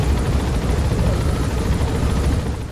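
Helicopter flight in Metal Gear Solid 5: The Phantom Pain, a loud, continuous rotor and engine roar with heavy low-end thrumming that holds steady throughout.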